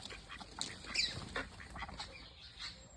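Small farmyard hen with a fresh brood of newly hatched chicks, soft close clucks and faint high peeps scattered through a quiet, steady background.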